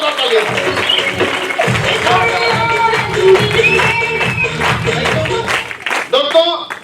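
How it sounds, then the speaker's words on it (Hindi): Loud applause from a large crowd at an awards and honour event greets a mentor, a dense roar of clapping mixed with cheering, while voices and music-like tones carry on over it throughout. "जोरदार तालियां, जोरदार तालियां"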